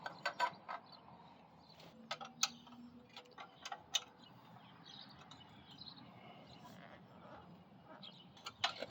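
Ratchet clicks bolting a welded part back onto a Coleman CT200U-EX trike build, a scatter of short sharp ticks and mechanical clatter in uneven bursts at close range, fairly quiet, with no talk.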